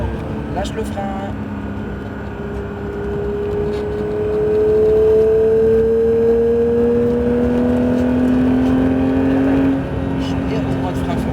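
A Porsche GT3 race car on a track comes off the brakes and accelerates, its engine note rising steadily in pitch close by, while someone talks over it.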